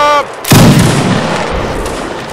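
A gunfire volley in Mount&Blade Warband Napoleonic Wars, one sudden loud blast of massed muskets cracking together after a brief shout, then a rumbling tail of echo and scattered noise.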